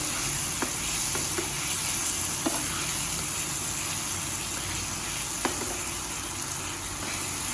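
Potatoes frying in a pan with paneer to follow, a continuous bright sizzle with occasional faint clicks of stirring, close and even throughout.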